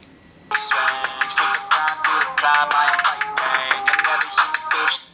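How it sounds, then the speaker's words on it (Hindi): A Fire-Boltt Phoenix Pro smartwatch plays a song through its built-in speaker: a bright, tinny melody that starts after a brief quiet moment and continues steadily and loudly, with no talking. "जो गाना है ये वॉच पर बज रहा है।"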